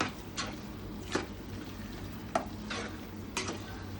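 Vegetables and masala for sambar sauté over low heat with a quiet, even sizzle and a few crisp spoon scrapes against the pan every second or so. No voices.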